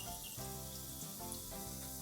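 Eggplants frying in hot oil in a pan give a steady, continuous sizzle and crackle, fairly quiet and close, with no talking over it.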